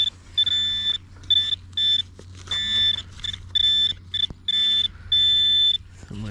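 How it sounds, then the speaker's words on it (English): Nokta The Legend metal detector sounds a repeated high-pitched tonal signal over a shallow target in a field, bursts coming in quick doubled pairs with short gaps, loud and close, over a steady low background rumble. "Look at that double beep."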